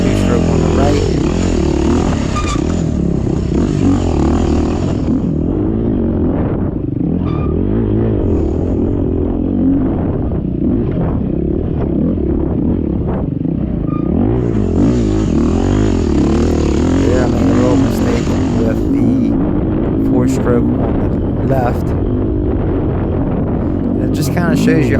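Two-stroke and four-stroke dirt bikes race through the woods on a cross-country GP track at Wicomico Park, their engines buzzing loud and close, revving steadily as a person talks over them.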